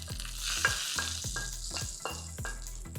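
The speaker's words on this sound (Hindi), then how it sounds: "ये लीजिए जीरा बढ़िया ब्राउन। अब ये दही में तड़का लगा लेते हैं।" Browned cumin seeds in hot oil sizzle loudly and steadily as a tempering for yogurt, with a rhythmic stirring scrape repeating about every half second, close up and without speech.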